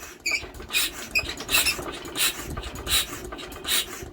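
A Deutz engine with no injector fitted is turned over with a hand starting handle, producing rhythmic puffing chuffs with squeaky mechanical clicks, roughly one beat every half-second, moderately close.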